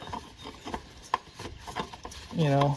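Oil filter being screwed on by hand onto a Kawasaki engine of a Husqvarna zero-turn mower, soft scraping rubs in an uneven rhythm, close up, ending in a louder buzzing sound.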